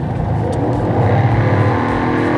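A BMW X5 4.6is with a 4.6-litre, 347-horsepower V8 revs loud and close, giving a dense, steady engine roar with a slight rise partway through and no talking.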